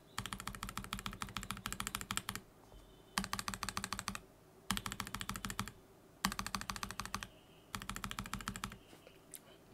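Typing on a mechanical keyboard fitted with lubed and filmed Joininkeys Prince or Zealios v2 switches: four dense bursts of rapid, even keystrokes, close and clear, separated by short pauses, with no talking.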